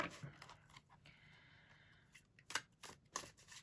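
A deck of tarot cards is shuffled by hand in short, crisp riffling bursts with brief pauses between them, close and fairly quiet.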